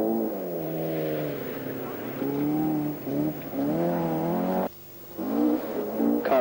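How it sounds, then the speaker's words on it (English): Opel Kadett Group 1 rally car engine revving and pulling hard on a 1978 British rally stage, steady droning harmonics rising and falling with a brief drop near the end, under a commentator's voice. "Becoming more common on British events is the Opel Kadett"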